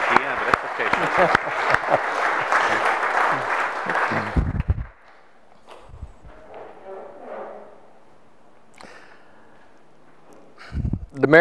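Audience applause at an Eagle Scout ceremony fills the first four seconds with dense, steady clapping, then it cuts off into a quiet room with faint voices and small movements before a brief burst of noise at the end.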